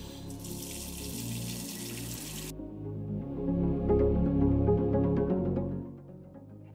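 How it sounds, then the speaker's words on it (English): A kitchen pot filler faucet runs water in a steady gush that shifts as the flow changes, with some clinking and splashing and no talk. "Look how convenient and thoughtful this pot filler is too."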